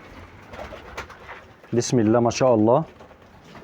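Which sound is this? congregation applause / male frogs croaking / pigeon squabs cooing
pigeon squabs cooing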